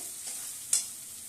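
Spice paste for a chhanar kofta curry sizzles in oil while being stirred, a soft steady frying hiss with one brief scrape of the spoon, no voices.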